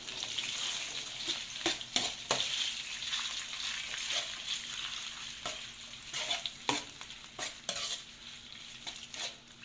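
Chicken mince frying in a pan gives a soft, steady sizzle, with a spoon scraping and clacking against the metal at irregular intervals, close but fairly quiet, and no one speaking.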